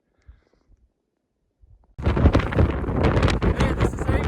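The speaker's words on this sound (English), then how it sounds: "It's crazy wind." Strong wind roars on the Avery Peak mountain summit: a near-silent moment, then heavy, loud buffeting against the microphone that continues without a break.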